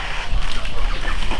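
Native chickens cluck in a dense, continuous flock chorus while being fed, loud and close, with overlapping calls and no clear gaps.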